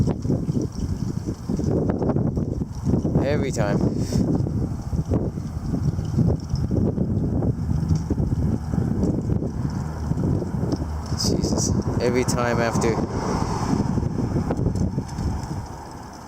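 Strong wind gusts of a passing cold front roar steadily and loudly against the microphone throughout, while a man briefly exclaims.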